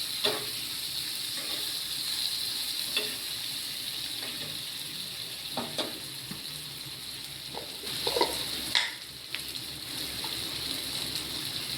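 Teasel gourd and bitter gourd frying in fish oil in a pan, a soft continuous sizzle broken by scattered clicks and clatters of a utensil against the pan.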